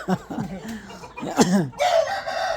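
Rooster crowing at fairly close range, a long drawn-out call with rising and falling pitch, followed by a bright sustained tone, with no talk over it.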